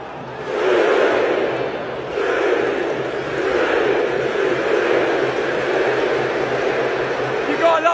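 A large football crowd roars and chants continuously, loud and dense, with swelling surges of massed voices filling the whole stretch.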